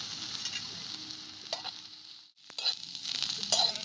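Onion and grated coconut roast with a steady sizzle in a kadhai while being stirred, with periodic scraping strokes of the spatula against the metal and a brief lull midway; close and fairly loud, no talking.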